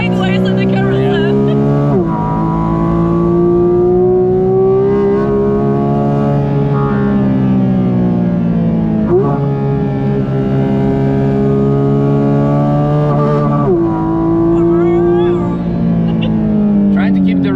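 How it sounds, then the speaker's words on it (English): Porsche GT4 RS flat-six engine held at high revs through the Carousel on the Nürburgring, loud and continuous with gear-change dips around two, nine and fourteen seconds, close and in-cabin. "trying to keep the revs high,"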